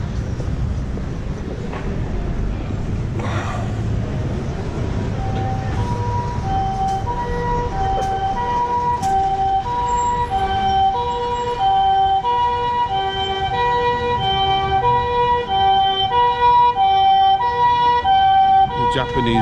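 An ambulance siren passing along a street in Japan, wailing in repeated rising and falling tones that grow louder, with low traffic rumble underneath.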